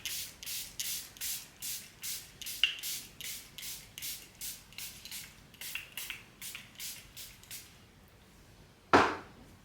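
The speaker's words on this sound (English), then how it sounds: "Once again, using the Charlotte Tilbury setting spray." Charlotte Tilbury setting spray is misted onto a face in about twenty quick, evenly spaced hissing pumps, close and fairly soft, followed by a brief louder rustle.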